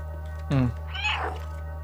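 Cat in the video game Stray gives a short, close meow followed by a softer, rising second mew, over a steady low electronic hum.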